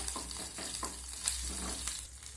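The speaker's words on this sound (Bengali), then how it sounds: "তেলের মধ্যে দিয়ে দিলাম হাফ চামচ গোটা জিরা। জিরাটাকে ভেজে নেব।" Whole cumin seeds frying in hot mustard oil in a kadai give off a soft, continuous crackling sizzle, with a few light stirring scrapes spaced through the short stretch.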